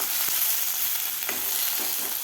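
Tomatoes and onion fry together in a pan for chickpea chhole masala. A steady, close hiss runs throughout with a few faint spatula taps, and no one talks.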